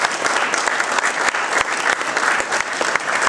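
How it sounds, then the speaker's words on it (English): An audience at a talk on the history of the Suffield Fire Department applauds for Judy, a brisk, steady patter of many hands clapping close by. "I'm going to clap for you, Judy"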